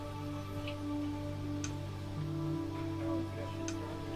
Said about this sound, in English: You hear that ticking?